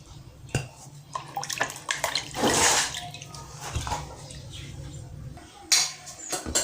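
Cut meat soaking in lukewarm water is rinsed and handled by hand, irregular close splashes, drips and sloshes with brief clattering and one louder pouring surge, no talking.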